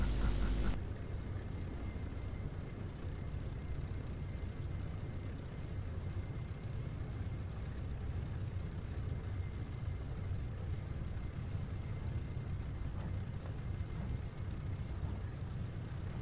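A Spitfire's engine runs in the DCS flight simulator, a steady droning rumble that holds at an even level for the whole stretch, with no talk over it.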